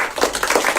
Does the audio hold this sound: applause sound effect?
yes